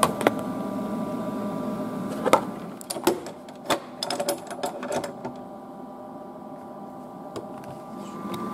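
An Abbeon ultrasonic welder operates with a steady mechanical hum, broken by sharp clicks and short bursts of clacking as it works, fairly close and without speech.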